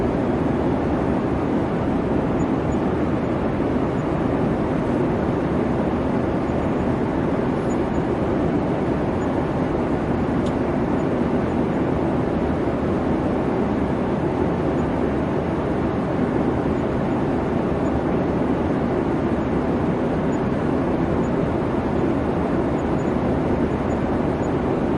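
Airliner cabin rumble while taxiing on a New York to Frankfurt route: a steady, dense broadband roar with low hum, continuous and unchanging throughout, without voices.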